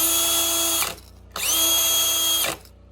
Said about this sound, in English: If I want to drill into some soft wood and I want it to be clean